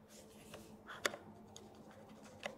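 Gritty-feeling switches on a Keychron V1 mechanical keyboard give a few faint, isolated clicks over a quiet background.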